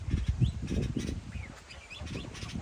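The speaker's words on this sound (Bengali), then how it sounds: "এই যে পাখিটা ডাকতেছে এখানে বসে বসে" A bulbul calls from a perch on a farm, its short chirps faint and intermittent over a steady low rumbling background.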